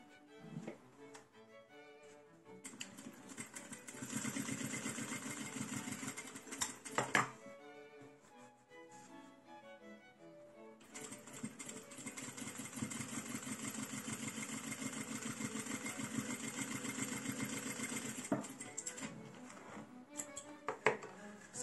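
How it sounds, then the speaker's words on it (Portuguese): A sewing machine stitching a fabric strip onto a mug rug, in two bursts of rapid, steady mechanical chatter separated by a short pause, close and fairly quiet. "E aí, a gente vai lá na máquina e costura."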